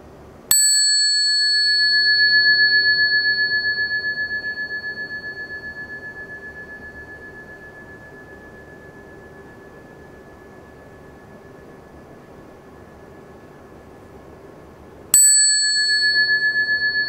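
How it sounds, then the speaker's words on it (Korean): A small bell is struck during a Buddhist dharma service. A single bright strike rings with a clear, sustained tone that slowly fades over many seconds, and a second strike follows near the end, with no talk over either. "지금 이제 우리가 종을 땡 쳤어요."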